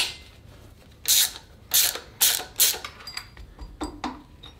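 Ratchet clicking while loosening the intake camshaft pulley on a Volvo B5254T engine, in several short bursts of close mechanical clicks with brief pauses between them, no talking.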